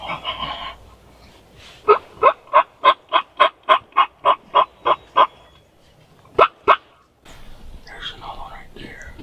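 A wild turkey gobbler gives rapid, rattling gobbles in a run of about ten close, evenly spaced pulses, then a short double burst, with hushed whispering before and after.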